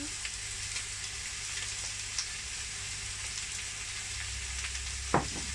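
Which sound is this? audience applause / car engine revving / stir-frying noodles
stir-frying noodles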